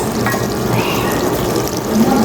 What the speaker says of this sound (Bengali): এখন আমি একটু ঝোল দিয়ে দিব সামান্য